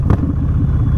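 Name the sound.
motorcycle riding in parking lot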